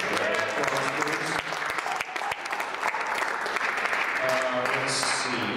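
A live audience gives a round of applause to a performer at a show, steady clapping with a few sharper individual claps, with voices and brief cheers mixed in throughout.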